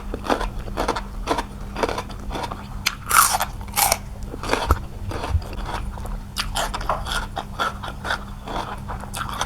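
Close, crisp biting and crunchy chewing of som tam papaya salad eaten by hand, with irregular bites and wet mastication over a steady low hum, no talking.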